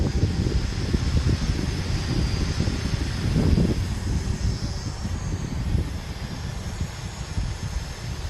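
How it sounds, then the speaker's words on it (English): A steady, loud whirring drone of a small GPS beginner quadcopter's motors and propellers flying outdoors on a windy day, mixed with wind rumble, continuous throughout with no talking. "make sure you buy a GPS drone, especially if you want to use it outside."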